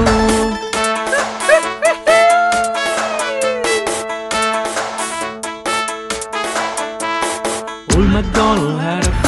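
Dog barks from the nursery rhyme Old MacDonald Had a Farm, sounding as cartoonish yaps woven through a bright, continuous sung children's melody with backing music, repeating in quick bursts.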